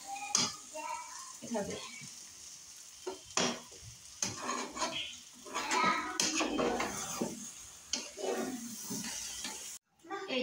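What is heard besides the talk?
stirring meat and rice for biryani in a pot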